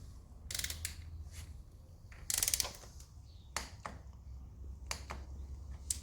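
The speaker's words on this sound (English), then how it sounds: "I'm going to tighten up the oil filter to its recommended torque" A torque wrench tightens the oil filter on a crashed Triumph Speed Triple 1200 RR motorcycle to 12 newton meters, with scattered sharp ratcheting clicks and metallic ticks at close range over a quiet background.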